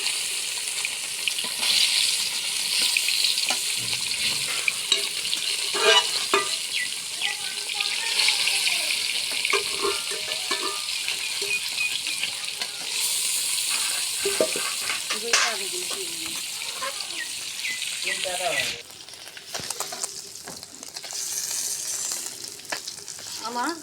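Pumpkin bori fry in hot oil on a stove, a loud, continuous crackling sizzle that carries for the whole stretch, with occasional stirring and clinks and a brief drop in intensity near the end.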